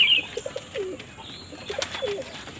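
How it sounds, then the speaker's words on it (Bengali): White pigeons with pale eyes coo in soft, low bursts repeated through the clip, with a few brief chirps and light wing flutters close by; nobody speaks. "কিছু কিছু সাদা পায়রা দেখিয়ে দেবো আপনাদেরকে"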